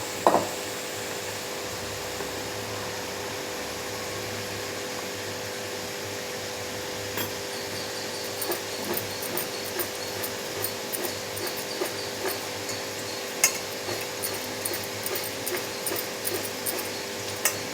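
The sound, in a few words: stirring lentil powder into fried ivy gourd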